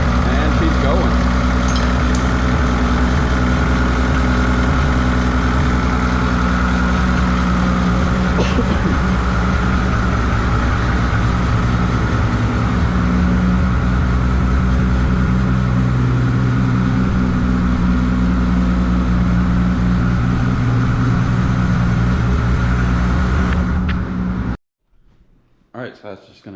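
Toyota 2JZ 3.4 stroker engine running in a JZX100, a loud, steady, deep idle drone that continues unbroken for about 24 seconds before cutting off abruptly.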